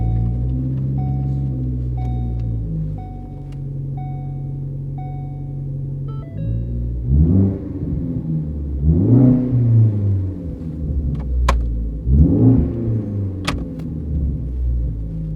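A Ford Focus ST with its sound symposer hose hooked into the cabin inlet, heard from inside the car: a steady droning idle with a tonal hum, then three loud rising revs that swell and fall back, with no talking.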